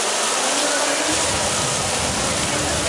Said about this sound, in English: As soon as the rain effect is ready, we'll begin the sequence.